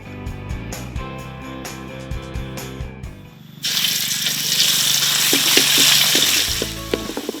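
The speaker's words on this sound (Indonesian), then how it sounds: "Panaskan minyak dan tumis bumbu sampai warnanya berubah kecoklatan." Loud, steady sizzling of spice paste frying in hot oil for ayam bacem, a bright hiss that swells and holds after a few sharp clatters at the start.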